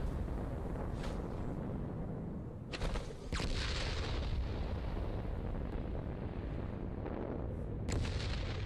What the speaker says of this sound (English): Were you shooting rockets?